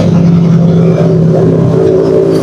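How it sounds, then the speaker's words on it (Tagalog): A car engine idles and revs steadily in a motor parts shop during a tune-up, a loud, close, continuous rumble with a slight rise in pitch. "Pakaingay ng kanyang makina."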